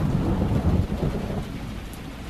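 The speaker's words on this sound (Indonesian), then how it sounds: "Hujan turun cukup deras" Heavy rain falls outside a modern market shophouse complex, a thick, constant downpour with low thunder rumbling through the first second before easing into a steady hiss.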